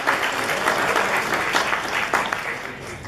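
A wedding audience in Jasper, Canada breaks into sustained applause, dense clapping from many hands filling the room at steady loudness for a few seconds.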